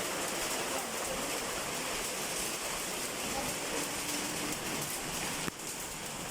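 Rain falls during a storm as a steady, even hiss throughout, with a single soft thump near the end.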